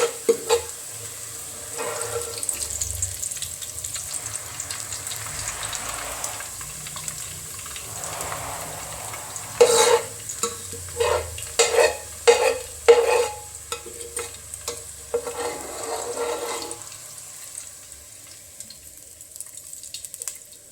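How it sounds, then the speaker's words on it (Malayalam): Sliced onions frying in oil in a pot for beef biryani, a soft sizzle under bursts of stirring and scraping, with a few louder clanks of the spoon midway before it quiets. "ഇനിയിപ്പോൾ ഞാൻ സവാള ഇട്ട് കൊടുത്തിട്ടുണ്ട് കേട്ടോ. സവാള ഒന്ന് മൊരിയട്ടെ."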